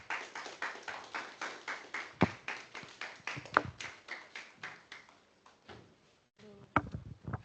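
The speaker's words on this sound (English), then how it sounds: "A round of applause." Sparse, steady clapping from a small audience at a Toastmasters-style speech meeting, sharp individual claps in a quick even rhythm that thins out and pauses before a few more claps return.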